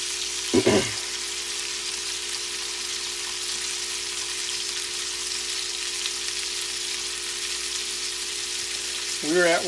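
A pork steak sizzles steadily in a hot pan, a constant broadband hiss filling the whole stretch, with brief clinks or scrapes near the start and end.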